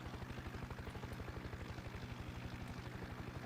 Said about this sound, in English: so I'm flying a helicopter with a steering wheel